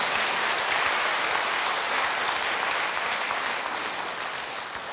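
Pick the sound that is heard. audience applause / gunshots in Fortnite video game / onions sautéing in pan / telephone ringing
audience applause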